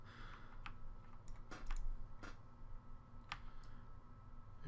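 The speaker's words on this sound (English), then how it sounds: "stopping like mechanical keyboard sound being picked up" Scattered clicks of a mechanical keyboard being typed on at a desk, sounding faint and a little distant against a low steady hum, coming as irregular single taps and short runs.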